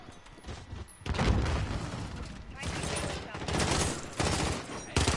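Rapid bursts of gunfire and booming shots in a Call of Duty Modern Warfare match on PS4, loud and dense throughout, with short volleys and thuds piling over one another while players talk now and then.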